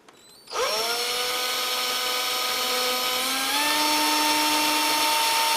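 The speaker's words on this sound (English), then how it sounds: "So what I'm going to do is just sort of re-drill it." A close power drill spins up sharply and re-drills a hole through a bear claw for several seconds, its whine shifting slightly in pitch partway through.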